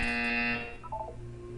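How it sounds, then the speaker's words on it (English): A loud electronic buzzer sounds in a Portal 2 video game test chamber as a steady tone that fades after about half a second, followed by fainter, shorter electronic blips. "You will Hear a buzzer."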